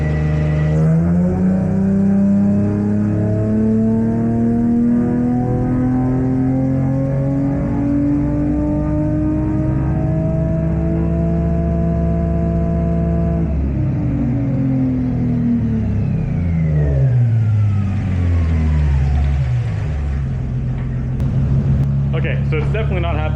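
An Infiniti car engine running a test pass while being tuned, a loud close droning rev that climbs steadily, drops and rises again, with a voice speaking over part of it.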